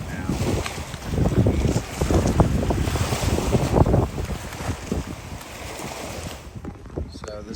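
Strong nor'easter wind buffets the microphone over rolling bay swells during coastal flooding in Ocean City, New Jersey, a loud, gusty roar with water washing close by.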